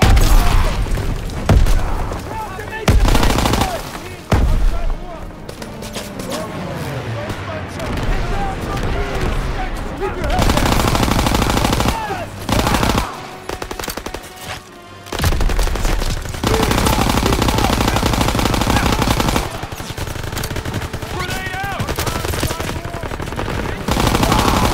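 Heavy gunfire in a Call of Duty WWII battle, with repeated rifle and machine-gun bursts, booms and shouted squad commands overlapping throughout a loud, chaotic firefight.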